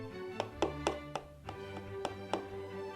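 A series of about eight sharp, hollow taps on a purple Dyson hair dryer's hard plastic, evenly spaced and close, with a steady low hum underneath.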